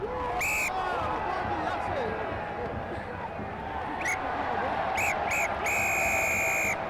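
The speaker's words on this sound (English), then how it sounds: "Phil Davis blows his whistle for the second time after 48 minutes." A referee's whistle sounds for half-time at a rugby county championship final, with several sharp blasts and then a longer final blast, cutting over constant crowd noise in a large outdoor stadium.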